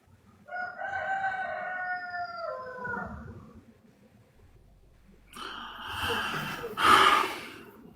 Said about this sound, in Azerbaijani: Elə demin də uşaqlar, xoruzun səsi batsın.